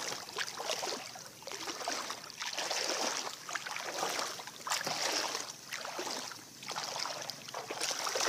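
Water rushing and sloshing in rhythmic swells as a small boat moves across the sea, steady hiss of spray with wind, no talking.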